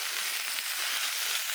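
Kimchi frying in a hot pan with a little sesame oil, a steady crackling sizzle, close and continuous through the short stretch, with no talking.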